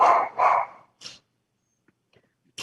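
Several dogs barking in short bursts, two loud barks close together then a shorter one, followed by quiet and another bark starting at the end.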